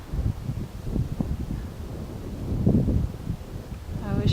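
Steady outdoor wind buffets the microphone, a low rumbling roar that rises and falls throughout, with a brief high chirp near the end.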